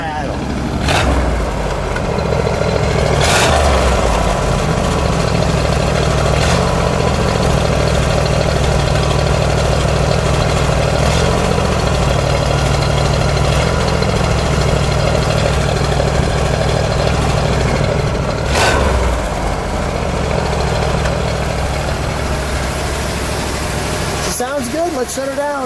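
A 1970 Plymouth Cuda convertible's 440 V8 holds a fast, steady high idle on race gas, a loud close rumble with a lumpy exhaust note and a few sharp clicks, while people talk over it.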